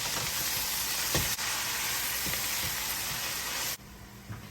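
Finely chopped spinach hits a hot pan with a loud, steady sizzle that runs for a few seconds, then drops away sharply near the end, leaving a quieter hiss with a faint stir or clink.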